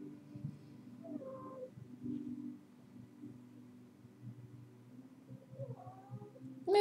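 A house cat meows and yowls softly a few times in a quiet indoor room, with faint low hum and rustling between calls.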